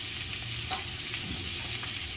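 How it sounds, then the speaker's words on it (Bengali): Ingredients for a chicken stew fry gently over low heat in a pan, giving a soft, steady sizzle with faint stirring scrapes throughout. "খুব একটা ভাজবো না হালকা করেই ভাজবো একদম ধিমি আঁচে করবেন বন্ধুরা"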